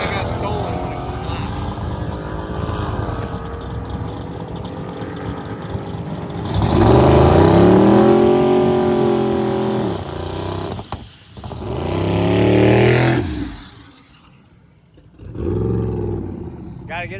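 A hot rod race car being tested at the track during race week roars with a loud revving engine that swells and falls in two big pulls, with people talking over the idle between them.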